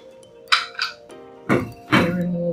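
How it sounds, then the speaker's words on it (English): A metal whisk tapped lightly against a bowl while decorating cupcakes gives four clinking knocks, two quick ones then a short pause before two more, close by and fairly crisp with no talking over them. "Your whisk and you tap it lightly"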